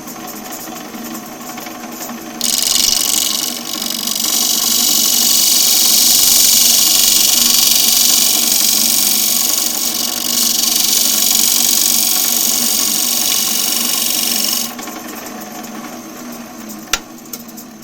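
A woodturning lathe shaves glue off the surface of a spinning workpiece. The tool's steady, loud hiss carries on for about twelve seconds over the constant motor hum, then stops.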